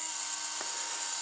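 A HobbyKing RC retractable landing gear unit running off a HobbyKing servo tester and battery gives a continuous high-pitched electric whine as it retracts upward. The sound is close and steady for about a second, with no talk.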